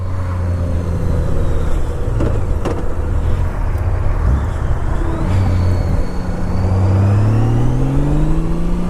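A Honda Goldwing motorcycle accelerates, its engine pitch climbing through rising sweeps with a brief dip between gears, loud and close over road and wind noise.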